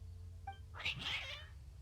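Cats in Genshin Impact give a faint short chirp followed by a clear, drawn-out meow, close and alone over a quiet background.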